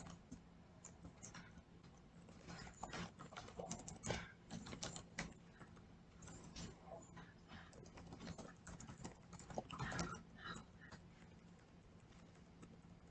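Fast, uneven clicking of computer keyboard keys as form fields are filled in, quiet and close, with brief pauses between bursts of typing.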